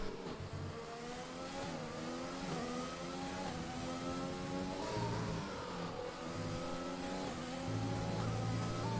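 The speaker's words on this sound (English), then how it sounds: "Cam's like really aggressively downshifting." A race car in an online racing game at Abu Dhabi blips through downshifts, with engine pitch stepping up and down repeatedly in quick bursts, loud and close, no voices over it.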